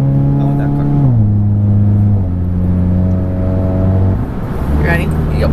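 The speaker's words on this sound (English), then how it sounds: "Stop driving so crazy." A car engine drones inside the cabin while driving, the pitch rising and dropping through gear changes as people talk over it.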